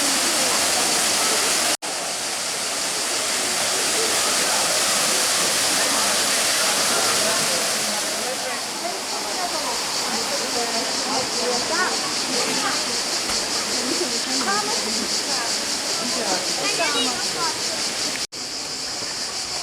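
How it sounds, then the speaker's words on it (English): Candalla Falls waterfall in Tuscany, a steady loud broadband rush of falling water heard close by, with people talking over it in the second half. "above the waterfall, the known Candalla Falls"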